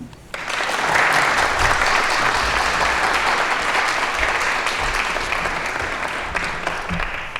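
An audience in Montgomery County, Pennsylvania welcomes Auditor General Timothy DeFoor with loud, sustained applause, dense clapping that starts abruptly and carries on evenly to the end.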